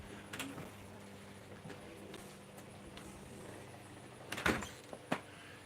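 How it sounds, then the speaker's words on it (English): A door opens for someone arriving at a borough council meeting, heard as a couple of moderate knocks and clunks near the end over otherwise quiet room tone. "I can get the door for him."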